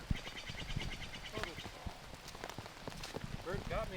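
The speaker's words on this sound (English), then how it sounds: "especially when it's raining" Rain patters steadily on a disc golf course, a soft, continuous hiss of drops beneath a commentator's voice, with faint chirps in the background.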